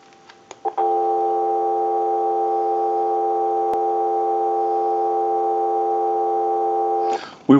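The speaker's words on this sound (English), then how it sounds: "we'll give you some dial tone" A steady telephone dial tone hums from a Western Electric French style desk telephone, loud and continuous for about six seconds after a few clicks, ending in a brief clatter, with no voices.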